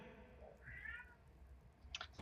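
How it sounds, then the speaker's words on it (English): A young kitten meows once, a clear mid-length call fairly close by, followed moments later by a couple of short clicks, with no talking over it. "If at any point in time you hear my cat meowing, she is a kitten"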